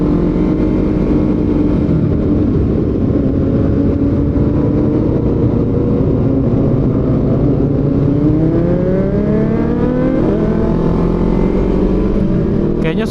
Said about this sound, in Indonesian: Kayaknya 100-200 motor ada sih itu. Rame banget guys.